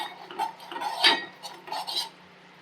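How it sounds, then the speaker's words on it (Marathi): Spoon stirring a thick homemade knee-pain paste in a metal pan, continuous scraping and clinking strokes against the pan with a low steady hum beneath. "असंच हलवत राहायचंय, कारण तुम्ही जर हलवणार नाही तर ह्याची चिक्की तयार होऊन बसेल"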